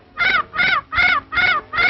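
A bird gives five loud, harsh caws in a steady rhythm, each call about a quarter second long and close by.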